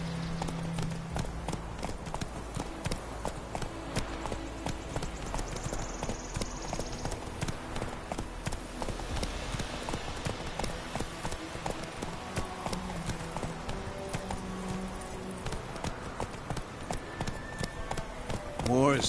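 Geralt's horse Roach galloping in The Witcher 3, a rapid steady clip-clop of hooves running throughout, with characters talking over the hoofbeats.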